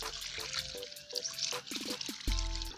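Water gurgles and pours through a used cocopeat polybag during flushing with a 2-horsepower pump, close and irregular, with clicks, tonal knocks and a louder gush near the end.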